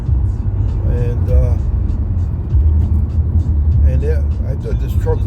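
A truck rumbles past on a road as heard from inside a moving car, a broad low engine and road roar under someone talking.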